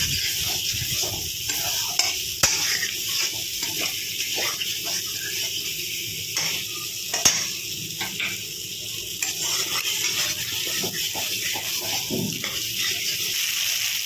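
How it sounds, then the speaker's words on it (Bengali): Fried pointed gourd (potol) sautéed with spices in a pan, giving a steady low sizzle with frequent scraping stir strokes and occasional sharper clinks, close and continuous with no talk. "দিয়ে একটুখানি কষিয়ে নেবো, তাহলে পটলের ভিতরে মশলাগুলো খুব ভালোভাবে ঢুকে যাবে।"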